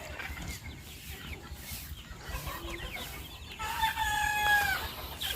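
Sonali layer chickens cluck and crow in a farm shed, a mix of near and far calls that grows louder and busier toward the end, with no voices.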